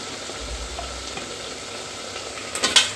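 Marinated chicken being stirred in a frying pan, a low even sizzle that carries on throughout, then a quick burst of scraping near the end, with no one speaking.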